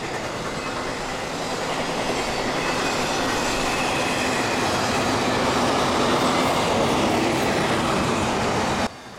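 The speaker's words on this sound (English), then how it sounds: "That was a pretty cool train meet right there total surprise." Loud, continuous rumble and rattle of two freight trains, including CSX, passing each other close by, with a broad roaring wash of wheel and car noise that cuts off abruptly near the end.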